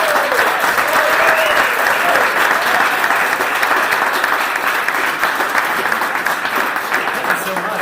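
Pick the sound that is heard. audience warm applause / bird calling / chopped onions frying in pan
audience warm applause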